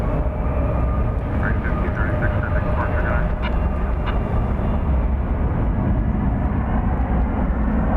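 An American Airlines jet at DFW Airport at night gives off a steady, broadband engine roar that holds at a fairly even loudness for the whole stretch, with a faint higher whine riding on top.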